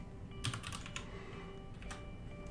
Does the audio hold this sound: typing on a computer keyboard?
yes